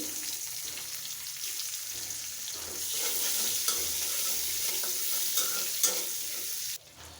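Chopped onion frying in a pan of hot oil left from frying hilsa, steady sizzling that swells louder midway, with spatula scrapes and stirring knocks, then drops suddenly near the end.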